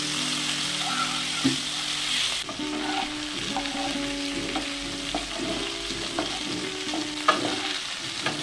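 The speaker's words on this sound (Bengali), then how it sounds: "মাছের মাথাগুলো ভাজা হয়ে গেছে, এবার একটি পাত্রে এগুলোকে তুলে নেব।" Hilsa fish heads frying and being stirred in a pan, a steady close sizzle with scraping stirs and faint background music tones throughout.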